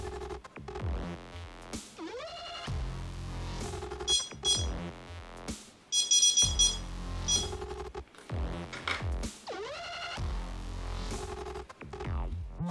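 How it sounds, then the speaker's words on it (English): Sonik Gizmo fishing bite alarm sounding a long run of electronic beeps and tones that shift in pitch, rapid and insistent, close and clear with no voices. "so you know which bite alarm is going off"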